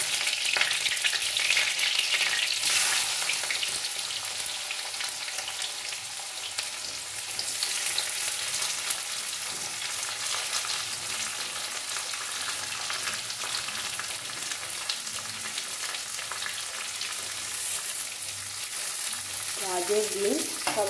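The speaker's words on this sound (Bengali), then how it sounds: "গাজর, বিনস সব আমি একসাথে ভেজে নেব।" Carrots and beans fry together in ghee in a kadai with garam masala and bay leaves, giving a steady, close crackling sizzle with occasional stirring scrapes.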